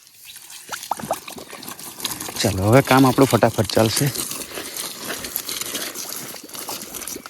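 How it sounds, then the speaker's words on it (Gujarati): Water streams fast from a pipe onto potted bougainvillea plants at a nursery, a steady rushing trickle running throughout while a person talks over it. "આજે તો પાણી બી ફાસ્ટ આવે છે,"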